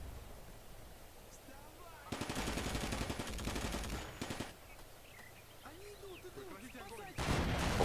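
Machine gun bursts rattle in Combat Mission, two sustained volleys of rapid fire with a third starting at the end, and faint distant shots and chirps between them.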